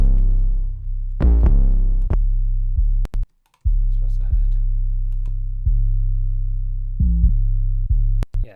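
Two 808 bass sounds are layered in a hip-hop beat, giving deep sustained booming notes in a repeating pattern, with sharp percussive ticks, one brief dropout and a short spoken phrase over it.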